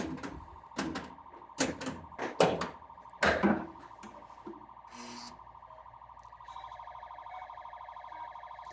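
Electronic beeps and tones from a Stern Wild Fyre pinball machine in sound test, a few clicks and knocks early on, then a sustained steady beeping tone continuing to the end.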